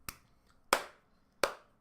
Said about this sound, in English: Slow clap.